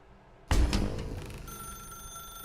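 An in-game telephone in The Stanley Parable starts ringing abruptly with a loud, bright bell burst, and the ring carries on steadily and sustained afterward, with no talk over it.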